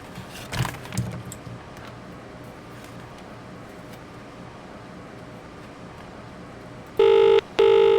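In a skyscraper simulator game, the emergency phone in a black-and-white Schindler elevator gives two loud electronic rings near the end, after faint clicks and handling sounds over a quiet hum.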